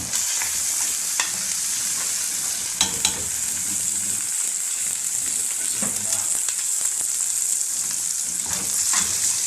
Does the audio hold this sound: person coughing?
no